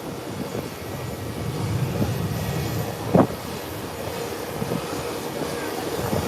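An American Airlines airliner turning on the ground gives off a steady, moderately loud engine rumble and whine throughout, with one brief sharper knock partway through.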